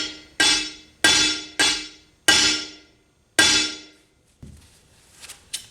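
A hammer strikes a tempered glass backsplash five times with sharp, ringing clangs that decay quickly, followed by fainter handling noises.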